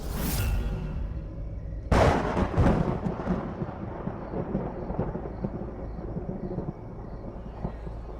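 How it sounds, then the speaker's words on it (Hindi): Thunder rumbles before a storm: a faint roll at the start, then a loud close crack near two seconds that fades into a long, low, diminishing rumble. "सिर्फ बारिश ही नहीं, ये तो किसी तूफान का संकेत है।"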